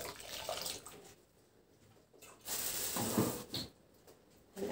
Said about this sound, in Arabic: هقوم هزود عليهم الميه مغليه سخنه